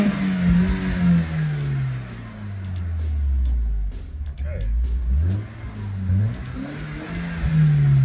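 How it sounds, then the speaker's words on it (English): A BMW E36 with an M43B16 four-cylinder engine and a swapped hot camshaft revs up and down repeatedly, its pitch rising and falling in a slightly uneven, choppy rhythm, recorded close and loud. "get up in the revs a little bit"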